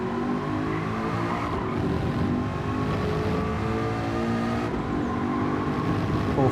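Race car engine in Gran Turismo 7 during an online lobby race, droning steadily near and loud throughout, with pitch shifting as gears change down into third, up into fourth and back down.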